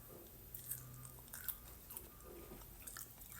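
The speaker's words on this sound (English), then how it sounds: "That's the rutabaga I parboiled earlier. It's not crunchy. Listen." Quiet, soft chewing of parboiled rutabaga close to the microphone, several muted bites and mashing sounds in an irregular rhythm, without any sharp crunch.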